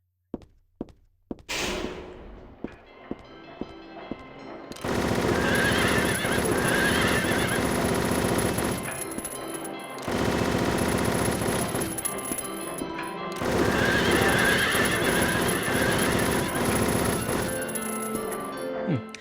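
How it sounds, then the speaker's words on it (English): Horses neigh in the video game Silent Hill 3, a merry-go-round scene: several loud, shrill whinnies repeat over a dense game soundscape with clopping, thuds and sharp bangs. "They're just making their normal neigh."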